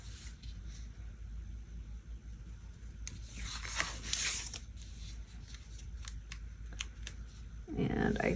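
Scissors snip and rub through a planner page to cut a sticker free, a steady soft papery cutting sound close up with a louder rustle near the end.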